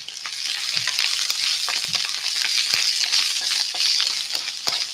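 Garlic and canned chicken sizzle steadily in a hot pan, a continuous close frying hiss with occasional stirring scrapes and no voices.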